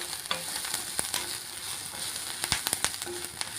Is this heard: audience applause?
no